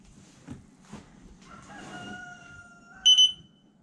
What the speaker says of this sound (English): You got to wait till you hear it beep twice.